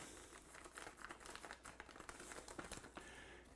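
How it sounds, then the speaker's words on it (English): Plastic crinkles and rustles close by in irregular bursts as a plastic bag holding bacon is handled and pulled open, quiet overall. "we're just going to open our plastic bag up"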